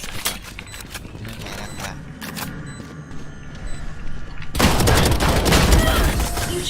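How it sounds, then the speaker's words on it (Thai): Gunfire in the shooter game Valorant: a run of sharp shots and clicks, then a louder, dense burst of blasts near the end, with game sounds underneath. "เอาลูกซองมายิงผมเฉยเลย"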